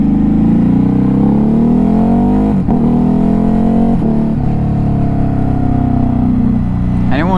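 A 2021 Ducati Hypermotard 950 RVE accelerating hard through the gears with a quick shifter, loud close engine note climbing in pitch with several abrupt shift cuts and renewed revving.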